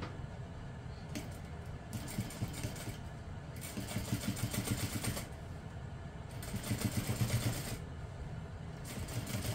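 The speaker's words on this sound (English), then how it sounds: "now we're going to top stitch beneath that seam using a 1/8 inch seam allowance" Sewing machine top stitching a handbag seam, a steady mechanical whirr in repeated runs of several seconds, each starting and stopping with short pauses between stitching passes.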